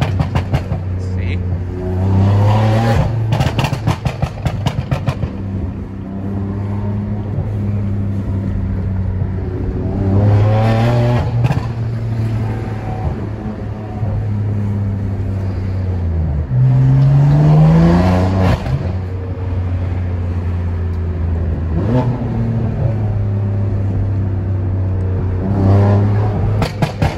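A tuned BMW M3 engine revs repeatedly, with deep harmonic surges rising and falling every few seconds as the throttle is blipped and released, loud and close, with a voice talking briefly over it.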